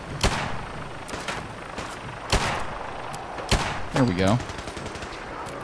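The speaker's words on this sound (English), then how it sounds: "Are you the one shooting me?" Gunfire in the Fallout 4 video game: several sharp broadband shots crack out at irregular intervals, loud and close, with a brief voice speaking in between.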